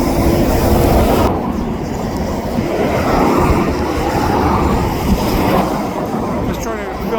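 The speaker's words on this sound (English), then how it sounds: "Just trying to film on the northbound side of the departure of the eastbound train" An eastbound subway train departs from a New York elevated platform, a loud, rumbling roll with rattling wheels that stays steady and gradually thins, with voices talking faintly underneath.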